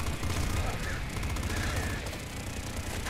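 Rapid bursts of fire from the flame pop gun in the video game Nuclear Throne, a dense continuous crackle of shots layered over game effects throughout.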